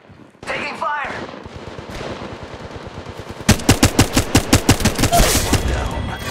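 Automatic weapon fire in the Apex Legends video game, several rapid, evenly spaced loud shots in a sustained burst after a stretch of quieter battlefield noise, close and punchy.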